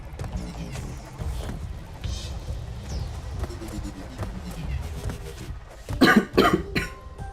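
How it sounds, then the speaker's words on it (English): Several coughs break through toward the end, loud and close, over a background of steady game noise and low rumbling. "Let me know if I'm coughing too much at any point."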